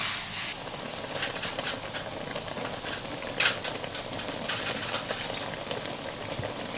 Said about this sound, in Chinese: 水开了，我们把这个面条给它下入锅里。